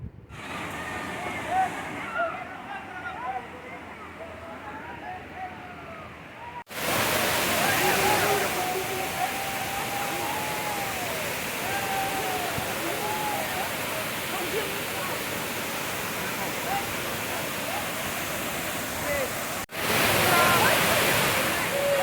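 A waterfall in the jungle near Guwahati, Assam, roars close by in a loud, steady rush of falling water, and people talk over it.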